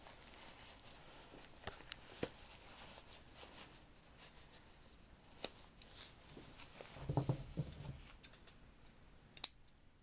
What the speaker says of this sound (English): Don't cut all the way through your stitch. We're just going to cut a little next to it.